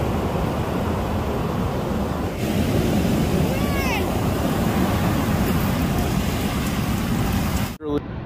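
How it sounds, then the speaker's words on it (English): Rough ocean surf crashes continuously on an Oregon beach, a loud broad wash of breaking waves mixed with gusty wind buffeting the microphone, ending in a brief bump of handling noise. "The waves are way too scary and rough."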